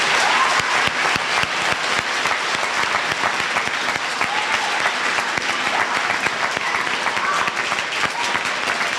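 An audience at a middle school Veterans Day ceremony claps for a veteran and his family, a full, even wash of applause that carries on at steady strength throughout without cheering.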